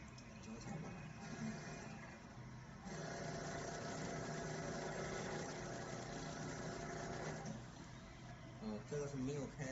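A shoe-making machine's motor runs with a steady, mid-pitched hum and vibration that holds for most of the stretch, with voices talking over it.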